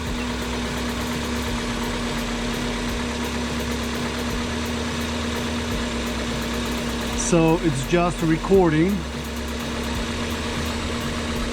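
A car engine idles at a steady low hum throughout, close by, with a person speaking briefly over it partway through.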